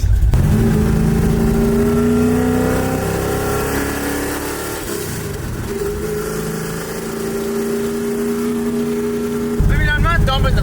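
A 1965 Ford Mustang with a modified V8 idling loud and lumpy at a stop sign, deep rumbling pulses with throttle blips that rise and fall, up close and continuous throughout.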